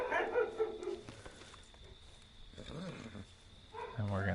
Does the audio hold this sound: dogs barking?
yes